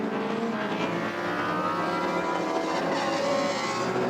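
Pre-1966 Grand Prix race cars, including Rod Jolly's Cooper, race at Silverstone, engines droning and revving with shifting pitch as they pass, heard from a distance at moderate level without talk.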